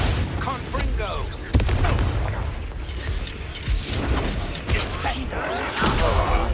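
The Confringo fire-blast spell in Hogwarts Legacy bursts out with a sharp crack, followed by booming, crackling impacts amid combat noise and shouting voices during a fight.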